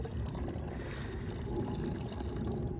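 Fresh water pours steadily into a bucket outdoors, a continuous close gush and splash with no talking.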